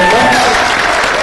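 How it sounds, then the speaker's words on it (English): An audience at a horror convention panel applauds, a dense, continuous burst of clapping at even loudness from start to finish. "How about a round of applause for our awesome moderator?"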